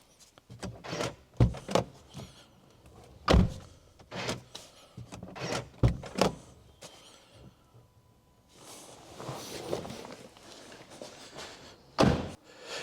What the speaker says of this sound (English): The front passenger door cannot be opened from inside the vehicle, near side front.